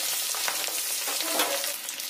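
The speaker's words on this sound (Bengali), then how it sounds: "এবার সাদা দিকটাও একটু ভেজে নেব।" Steady, fairly faint sizzle of an egg frying in oil in a pan, the white side cooking after the yolk side was turned, heard alone without talk.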